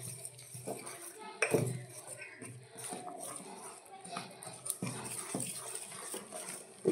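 Milk is stirred into malpoa batter in a bowl, a spoon scraping and clinking against the sides in uneven close strokes with occasional louder knocks, with a voice heard intermittently.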